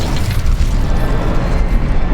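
An Incendio fire spell goes off in Hogwarts Legacy with a loud, rumbling burst of flame that roars throughout, dense and close.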